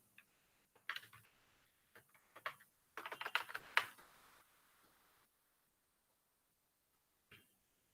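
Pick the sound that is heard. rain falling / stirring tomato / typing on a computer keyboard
typing on a computer keyboard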